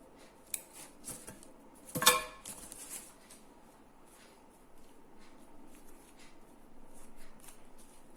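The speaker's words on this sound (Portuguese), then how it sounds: "Cortar também esses fiozinhos que ficam aqui" Scissors give one crisp snip while trimming loose threads on a recycled paintbrush craft, with faint handling rustles before and after in a quiet room.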